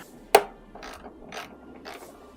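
Ratchet wrench working a 10 mm bolt on a 2023 Yamaha MT10 motorcycle, one sharp loud click followed by three softer ratcheting strokes at an even pace, close up with no talk.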